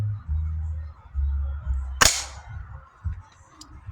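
A single sharp crack from a Gamo Red Fire .22 air rifle, close and loud, standing out against quiet outdoor background.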